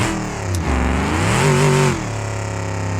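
A loud, unmuffled car engine revs in a driving game, its pitch rising and falling through a short burst before settling back to a steady idle.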